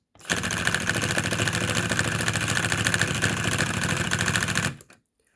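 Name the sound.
Lego piston engine model running on motor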